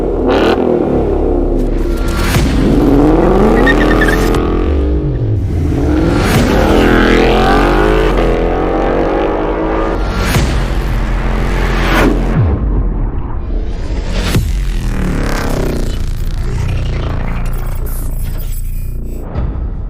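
A 2022 Ford Bronco with a 2.3-liter four-cylinder engine and an AWE cat-back exhaust revs hard several times. Loud rising and falling throttle blips come from up close, with a rumbling idle between them.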